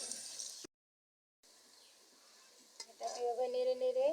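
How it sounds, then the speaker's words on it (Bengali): Chopped onions being stirred and fried in a pan: a soft, close sizzle that cuts out for a moment, then returns with scraping stirs and a brief rise in crackling toward the end. "পেঁয়াজটাকে ভালো করে নেড়ে নেড়ে বাদামি রং আসার আগ পর্যন্ত এটাকে"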